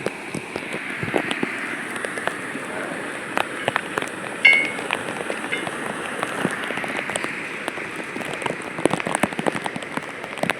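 Steady rain patters densely on a surface, with sharper individual drops tapping throughout, close and continuous.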